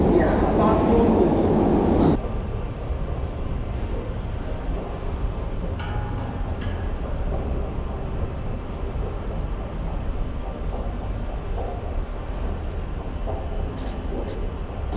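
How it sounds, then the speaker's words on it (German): A subway train pulls into an underground station, a steady loud rumble and rush that fills the platform, with a louder burst at the start and people talking nearby. "ein bisschen Rolltreppe und ein bisschen U-Bahn, wenn die einfährt"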